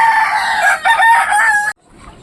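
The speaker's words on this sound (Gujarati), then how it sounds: "બધા કુકડા પૂરાઈ ગયા" Roosters crowing loudly and close by, with clucking mixed in, a continuous burst of calls that stops abruptly, leaving quiet farmyard background.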